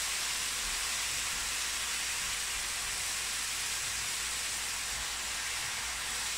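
Continuous loud sizzling and hissing of chicken fillets frying in a pan, steady throughout with no talking.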